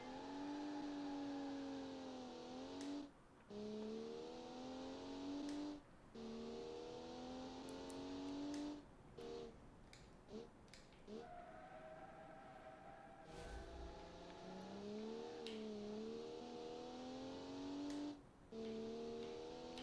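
A 1967 race car's inline-six engine revs in a BeamNG racing game, climbing and dropping through repeated gear changes with brief lifts off the throttle, loud and continuous with no talking.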